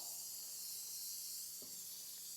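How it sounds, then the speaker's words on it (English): Baking spray with flour hisses steadily into a 13 by 9 by 2 inch baking pan, a faint, continuous spray with a soft knock partway through. "We're going to spray a 13 by 9 by 2 inch baking pan."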